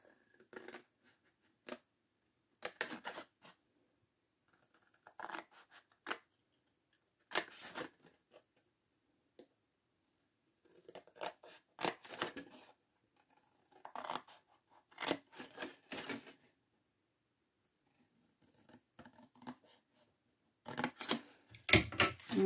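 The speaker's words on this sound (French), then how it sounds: "On va venir couper à chaque pli ici." Scissors snipping through paper at each fold while making a hexagonal box, short bursts of crisp cuts separated by quiet pauses, close and soft.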